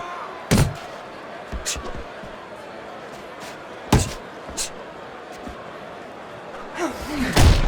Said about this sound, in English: What a crushing blow up top he just landed.